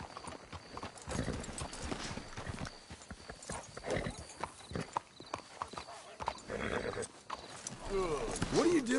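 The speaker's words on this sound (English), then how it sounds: "Let's hitch the horses up ahead." Horses ridden in the video game Red Dead Redemption 2 give a steady clatter of hooves with a brief whinny near the end, heard under ongoing character dialogue.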